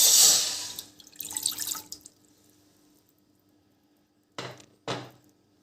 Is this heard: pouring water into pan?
yes